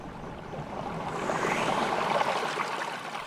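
Ambient flowing water from the game Alwa's Legacy makes a continuous, soft, hissing trickle that swells slightly in the middle, with no voices.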